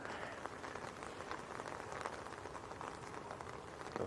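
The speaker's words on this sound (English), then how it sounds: "So the rain's got heavier, but the clouds lifted." Heavy rain at Leeds Bradford Airport, a dense continuous patter of drops on hard surfaces with scattered sharper splashes, steady and moderately loud throughout the few seconds.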